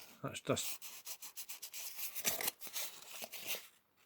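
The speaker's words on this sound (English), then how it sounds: "So I might just give it a bit of a rub down with that. 400 grit." The windscreen of a 1969 Matchbox Lesney Rolls-Royce Silver Shadow model is rubbed down with 400 grit sandpaper, giving quiet, close, rhythmic scratchy strokes in a quick regular series.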